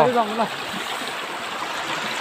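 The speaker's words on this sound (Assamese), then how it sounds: "গাইজ শব্দ শুনক জুৰি শব্দ" A stream runs beside a road in Ladakh, a steady, close rushing wash of water that fills the whole clip, with a voice briefly heard at the start.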